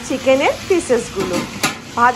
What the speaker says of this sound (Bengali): এরপরে এর মধ্যে অ্যাড করে দিচ্ছে ভাজা